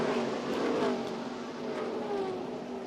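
ARCA stock cars roar together at a green flag restart in the 2023 Dawn 150, a dense, loud wall of engine noise that holds steady throughout.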